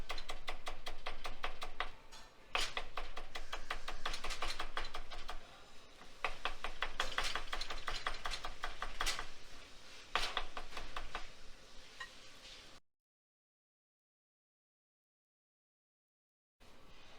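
Rapid knife chopping of a handful of parsley on a board, a fast steady run of close, crisp taps that pauses briefly a few times before stopping, then near silence.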